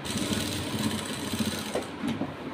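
A sewing machine stitches a blouse in a continuous close, steady whirring hum with a faint rhythmic ticking of the needle, a brief shift near the end, and no talk.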